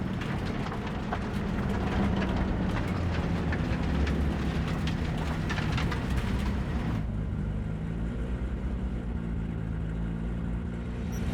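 A train in Cyberpunk rolls along its rails with a dense, continuous rumbling clatter and hiss that shifts to a smoother, duller roar partway through, steady and fairly loud.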